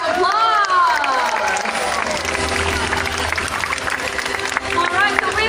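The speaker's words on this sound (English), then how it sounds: "Can we give our finale birds a round of applause?" Audience at a bird show in the Pools Amphitheatre at Jurong Bird Park clapping and cheering for the finale birds, a dense sustained wash of applause with a bird call and some voices over it.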